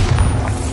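A Bombarda spell explosion in the Hogwarts Legacy video game gives a loud, rumbling boom. Dense low-end energy holds steady through a short burst, with no pause or decay.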